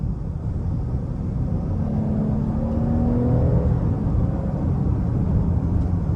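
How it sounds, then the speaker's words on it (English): Engine of a 2021 GMC Acadia Denali FWD SUV accelerating in cylinder deactivation mode on four cylinders, a steady, smooth low drone that swells gently under road noise from inside the cabin, with no talk. "And I love the sound that the vehicle makes. It sounds very sporty, yet refined and not too noisy for this to be a family SUV."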